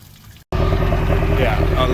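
Water from a hose runs steadily through the hull of a Glastron Carlson CVX-16 boat, flushing out gunk, a loud continuous rushing and pouring that starts abruptly after a brief gap.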